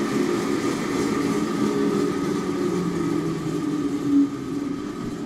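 A tool and cutter grinder's chain drive runs after being put in gear, a steady, fairly quiet mechanical hum with faint whirring tones, continuous and close, with a brief bump near the end.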